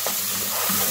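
Spiced masala with salt, red chili, turmeric and a splash of water frying in a pan for a chicken wings curry, giving a steady, even sizzle close by with no talking.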